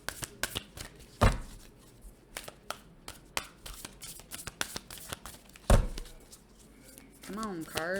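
Tarot cards shuffled by hand in a run of quick, dry riffling and slapping bursts, with a few sharper snaps standing out; a voice speaks briefly near the end.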